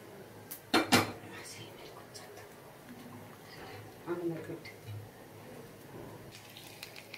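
Boiled ajwain rasam being strained between metal kitchen vessels: a couple of sharp clanks near the start, then scattered clinks and faint liquid pouring, with soft speech in the background.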